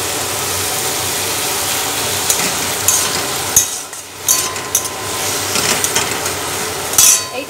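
Onions frying in a pan while being stirred, a steady broadband sizzle with a few sharper scrapes and clacks of the spoon, close and fairly loud throughout.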